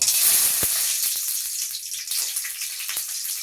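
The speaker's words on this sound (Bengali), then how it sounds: "তাই প্রথমে আমি বাদামটাকে ভেজে নেব।" Peanuts frying in a pan give a steady, bright sizzling hiss, close and fairly loud, with a couple of small pops and no talking.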